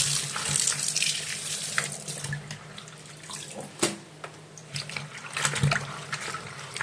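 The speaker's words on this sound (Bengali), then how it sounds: "পুঁই শাকগুলো তো কেটে নিয়েছি, চলো এবার ধুয়ে নিই।" Running tap water splashes steadily into a sink as cut Malabar spinach leaves are rinsed by hand, with occasional louder splashes and handling noises, close and continuous, with no talking.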